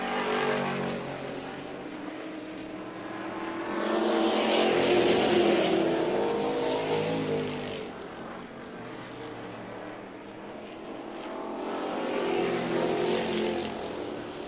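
Race cars lapping a track during a Crown Vics or Midwest Compacts feature at Ohio's Wheelman, engines droning and swelling as cars pass by in waves, loud and continuous.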